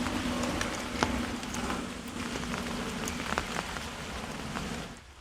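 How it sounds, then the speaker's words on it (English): Rain keeps falling outdoors at an antenna build site, a steady hiss of drops on surfaces with scattered sharper taps, fading near the end. "It's still raining, but not quite as bad."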